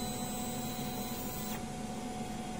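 A DTF printer runs a nozzle check, giving a steady mechanical whir and hum with faint tonal lines that shifts in character partway through. No one speaks.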